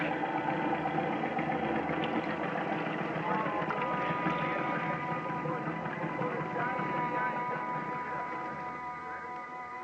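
A carnival Ferris wheel motor fed lemonade instead of gasoline runs as a radio drama effect, a steady dense engine drone with sputtering texture that holds throughout and eases slightly at the end, no voices.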